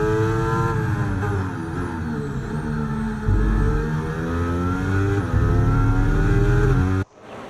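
Racing cars crest a hill at speed in a broadcast race, a loud, continuous engine drone with harmonics sliding up and down as they pass, ending abruptly; no talk.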